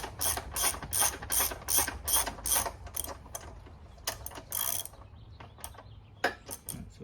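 Ratchet clicking as it turns a bolt on a Dax125 rear rack, quick bursts of sharp metallic ticks in an uneven rhythm, close and clear with short pauses between strokes.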